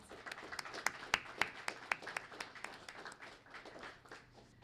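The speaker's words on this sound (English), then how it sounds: "let's give all of our breakfast sponsors a great round of applause" A modest group at a Student of the Month breakfast claps for the breakfast sponsors. It is quiet, fairly distant applause with a few sharper individual claps standing out, and it tapers off after a few seconds.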